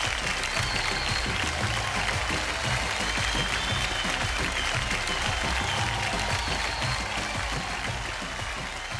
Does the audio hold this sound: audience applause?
yes